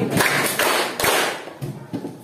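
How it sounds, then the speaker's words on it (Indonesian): Schoolchildren in a classroom clap in unison three times, each sharp, close clap evenly spaced about half a second apart, followed by a couple of softer, scattered claps trailing off. "Tepuk 3 kali."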